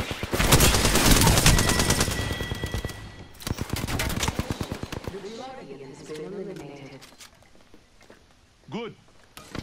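Triple Take rifle fire in Apex Legends: rapid, loud bursts of sharp shots in the first half, then sparser distant pops and clatter as a voice talks over it.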